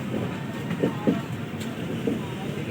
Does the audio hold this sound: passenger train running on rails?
yes